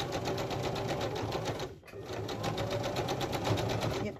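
A sewing machine stitches applique onto a fabric journal cover in rapid, even bursts of needle clatter. It pauses briefly midway and then resumes, close and moderately quiet.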